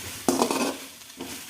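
A spoon scrapes through bitter gourd and tomato curry in a pan, giving two short stirring strokes with a faint sizzle beneath and no voices.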